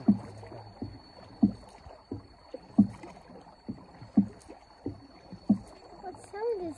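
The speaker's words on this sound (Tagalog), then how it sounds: "What sound is that? The water. The boat." A rowboat moves across Bulusan Lake, its oars dipping in a regular stroke roughly every second and a half with soft splashes and knocks, close by, with a faint steady whine behind.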